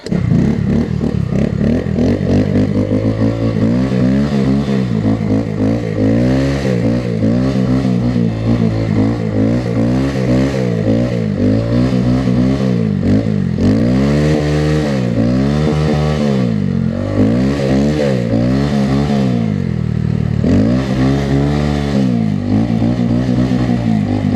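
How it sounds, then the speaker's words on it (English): Motorcycle pulling power wheelies and drifting on snow, its engine loud and close, revving up and down in repeated sweeping surges with gear changes throughout, plus faint clattering, no voices. "Oh, that's just power wheelies"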